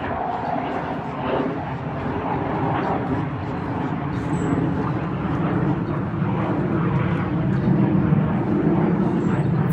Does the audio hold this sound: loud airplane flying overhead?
yes